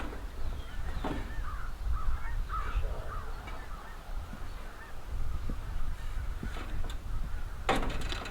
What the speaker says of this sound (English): the geese are flying south in this segment